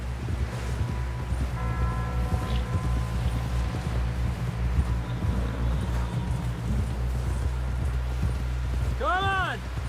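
Horse hooves from the video game Red Dead Redemption, a steady rhythmic clip-clop running throughout under a low wind-like rumble, with a brief voice-like sound near the end.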